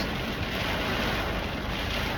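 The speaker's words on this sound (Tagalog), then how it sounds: "sobrang lakas ng hangin sa labas." Constant broadband roar of strong wind during flash-flood weather in Dubai, steady and loud with no breaks, dominating the whole moment.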